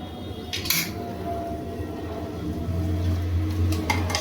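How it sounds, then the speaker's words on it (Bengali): A utensil scrapes and clinks in a pan as potatoes are stirred into masala for an echorh chingri (jackfruit and prawn) curry, with a few sharp metallic knocks over a steady low kitchen hum and no talk. "আলুটা দিয়ে আবার ভালোভাবে কষিয়ে নেব।"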